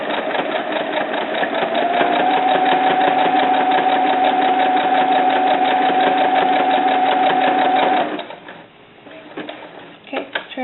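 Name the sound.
sewing machine stitching a doll bra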